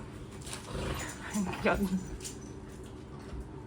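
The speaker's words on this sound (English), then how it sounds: "my two dogs are arguing" Two pet dogs squabble indoors, giving low growls and a short burst of whimpering yelps in the middle. The sounds are fairly faint and sit among background room noise and some human voice.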